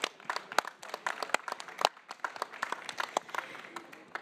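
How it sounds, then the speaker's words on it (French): A modest audience at an industry conference claps, producing sharp, irregular individual hand claps that sound fairly close and sparse, continuing at a steady level throughout. "Voilà, on les applaudit bien fort."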